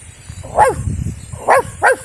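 A voice imitates a dog with three short, sharp barks, one alone and then two close together, over a low background rumble.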